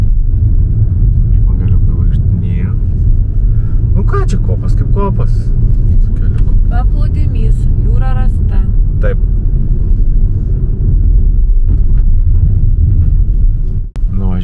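A car's steady low engine rumble and road noise fill the cabin while driving through a sandy dune area on an Andalusian beach, with people talking over it throughout.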